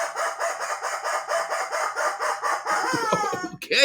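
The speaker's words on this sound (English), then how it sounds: "And the rubber chicken says," A rubber chicken squawks in a rapid run of shrill, rhythmic honks that bend into a long strained wail at the end, loud and close with nothing else over it.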